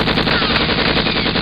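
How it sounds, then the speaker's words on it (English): Tommy gun firing in a rapid continuous burst, loud and close, a dense rattle of shots with no talking over it. "I believe you, but my Tommy gun don't."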